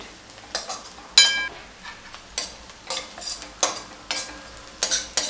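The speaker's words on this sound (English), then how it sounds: "Just keep continuously mixing it, stirring it, and just keep monitoring that it doesn't get burnt" Cauliflower and peas being stirred in a pan for a flower matar bhaji, with repeated scraping strokes of a utensil against the metal in an irregular rhythm over a faint sizzle, close and clear.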